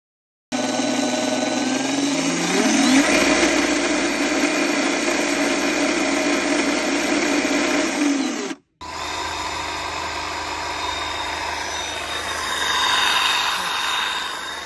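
Greenworks 80V Pro cordless trimmers, a 20-inch pole unit and a 26-inch hedge unit, run with a loud, steady electric whine and buzz, then cut out for a moment before a second run of similar pitch.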